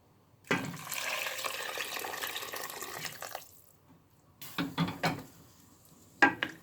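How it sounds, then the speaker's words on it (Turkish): Water poured into a pot of sautéed vegetables and lentils: a steady rushing pour for about three seconds, then a pause and a few clattering knocks of pot and utensil, close and without talk. "Şöyle kavurduktan sonra suyunu ekliyoruz."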